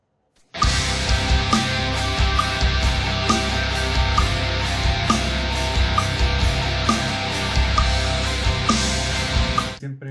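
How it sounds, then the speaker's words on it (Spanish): Doubled distorted electric guitar track played back in a home recording session, a dense, sustained wall of overdriven chords running steadily at a loud level for about nine seconds before stopping. "Ahora voy a grabar la segunda pista de guitarra con distorsión"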